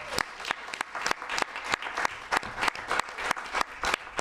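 A small group at an Underearners Anonymous meeting claps for a newly named chair; the claps are steady and rhythmic, fairly faint and slightly distant, with no talking over them.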